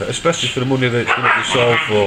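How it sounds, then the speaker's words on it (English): Pet dogs play-fighting in a home, with repeated yips and barks running under a man's close speech for the whole stretch. "That's to excuse the noise in the background, but my dogs are trying to eat each other and they're only playing"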